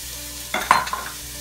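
Onion and other vegetables hit a hot pan for a meat sauce, giving a short, close burst of sizzling with a brief stir, then settling into a quieter hiss.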